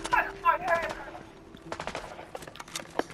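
Sharp pistol shots crack in Fortnite, a quick run of close reports in the second half after an opening stretch of talk and game noise, with a voice speaking over parts of it.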